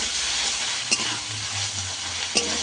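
Spice paste with tomato and green chillies for chicken curry fries in a pan, giving a constant close hiss broken by two brief scraping strokes of a spoon, with no talk.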